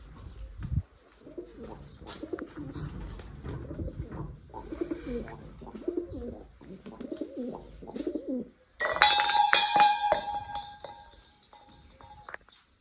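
Soft, low pigeon coos repeat steadily, then a sudden loud flurry of flapping wings bursts in near the end and gradually fades.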